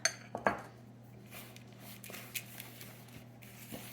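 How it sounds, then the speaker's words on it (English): Quiet clinks and scrapes of a utensil against a bowl as wet and dry oatmeal cookie ingredients are stirred together, a few sharp taps early then softer intermittent scraping, close up. "I'm going to add half of the wet ingredients to the dry and mix."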